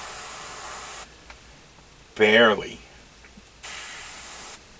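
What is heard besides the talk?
spray gun spraying chrome paint onto kit parts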